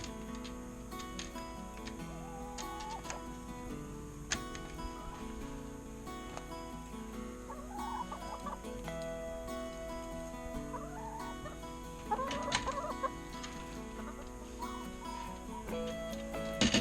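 Chickens and a bare-necked turkey settling into a newly assembled My Healthy Hen coop, with soft clucks and occasional gobbling calls scattered over a steady background hum, fairly close and moderately loud throughout.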